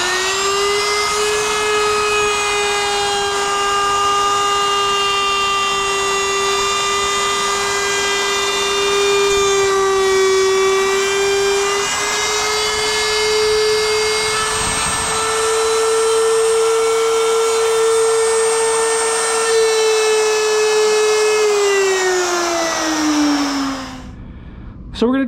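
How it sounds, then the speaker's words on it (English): A router flush-trims a wooden cabinet face frame with a loud, high, steady whine close by that holds for over twenty seconds, then winds down at the end. "Today we're going to take the router and just lightly hit it."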